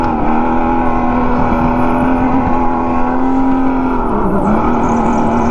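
A supercharged go-kart engine drones loudly and steadily while racing around a twisting track, with a constant high whine that dips briefly near the end.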